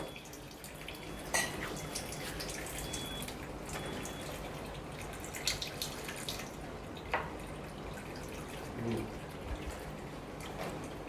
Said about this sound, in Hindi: अब ये मशीन क्लीन हो रही है।